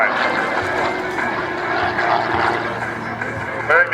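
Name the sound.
aerobatic airplane flying at an airshow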